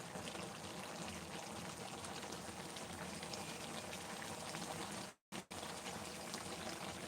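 Adobong isaw, chicken intestines, boiling in a pot, a dense continuous bubbling hiss close up, steady throughout apart from a brief dropout near the end.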